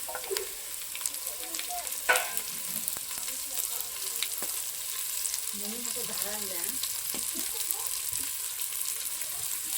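Boiled jackfruit seeds are stir-fried in a pan of oil spiced with curry leaves and a little chilli, giving a continuous soft sizzle with occasional scraping and stirring sounds, heard close and at moderate level.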